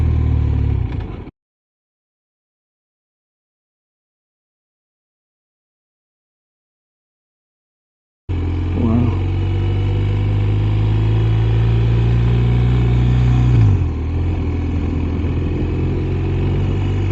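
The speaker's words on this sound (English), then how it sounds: "Here's that car coming from the other side." A car approaches from the other side on a flood-damaged rural road, heard as a steady engine drone that rises and shifts in pitch after a stretch of silence, with no talk.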